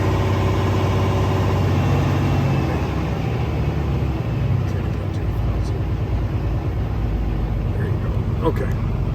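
A Kenworth T680 truck's Paccar 500hp diesel engine runs with its oil filler cap off, a loud, steady low rumble with a slightly raised idle that continues unbroken throughout, up close, with someone talking over it.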